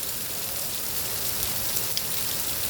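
Steady rain falls in Sharjah, UAE, a dense, even hiss of drops on surfaces with a few sharper individual drop taps and no voices.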